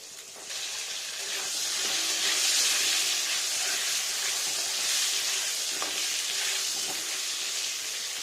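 Potatoes fry in hot oil, a loud, steady close-up sizzle and hiss that swells slightly and carries on without pause, with faint stirring knocks underneath.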